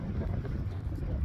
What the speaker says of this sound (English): It's probably really windy here.